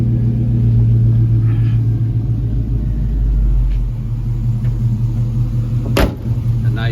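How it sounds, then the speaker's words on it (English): A deep, steady V8 exhaust from a 1945 Chevrolet 3100 truck with a swapped 5.7 LS engine rumbles at idle, loud and close, with a low throb that swells briefly and a sharp click near the end. "A nice sounding exhaust."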